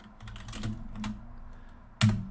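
Someone types a chmod command on a computer keyboard on a Linux machine. Rapid, close key taps come in a quick run, then pause, before one louder keystroke lands near the end.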